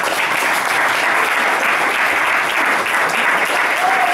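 Warm, continuous audience applause for a boogie-woogie pianist at a live concert finale, loud and even throughout with a thick wash of clapping hands and no speech over it.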